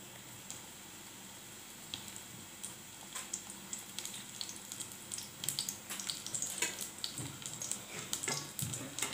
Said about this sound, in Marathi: फ्रीजमध्ये ठेवलेले हे मोठेवाले मी सोडते तेलामध्ये